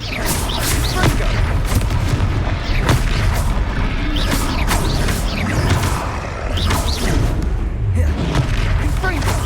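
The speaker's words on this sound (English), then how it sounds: "Confringo!" Confringo fire spells blasting in the Hogwarts Legacy video game, a loud, dense run of booming explosions and crashes with a few pauses, continuous throughout.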